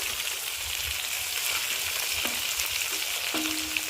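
Carrot, beans and capsicum fry lightly in ghee in a pan for fried rice, a steady close hiss of sizzling throughout, with no voices.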